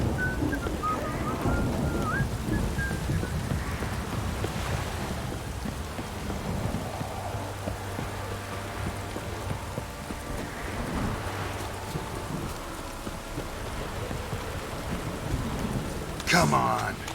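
Steady heavy rain falls through a thunderstorm in The Witcher 3 video game, with low rolling thunder and a sharp crack near the end; a voice briefly talks early on.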